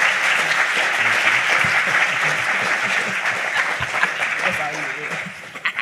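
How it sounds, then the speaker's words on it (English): A conference audience at FinCon 2022 claps for a panel discussing financial trauma, a dense sustained round of applause filling the room, with a voice speaking faintly over it as it fades near the end. "can we please give them a round of applause?"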